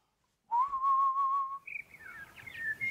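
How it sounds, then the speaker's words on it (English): A steady whistled tone, then higher chirpy bird-like whistles, clear and close in an otherwise quiet space. "The birds are chirping back at me."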